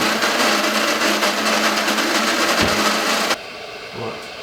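An electric coffee grinder grinds coffee beans in a loud, steady, dense whirr for over three seconds, then cuts off abruptly, leaving faint room noise and a small knock.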